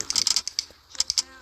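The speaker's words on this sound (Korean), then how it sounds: "좋긴 한데 조금 너무 탁탁 치는 소리가 들려서" A computer keyboard with a sharp, clacky feel is typed on close up, about a dozen quick keystrokes in two short bursts separated by a brief pause.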